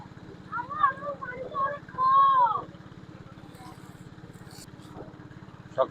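A river boat's engine chugs on a sunny morning trip along the Sangu River in Bandarban, a steady low rhythmic putter running underneath a person talking.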